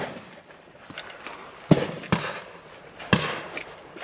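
Shotgun shots at a shooting session ring out as a few sharp, distant-sounding bangs spread over a few seconds against a murmuring outdoor background.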